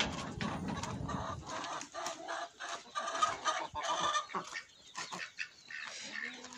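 Turkey hen clucking in a backyard poultry yard, a run of soft, fairly close clucks and calls with short pauses, no voices.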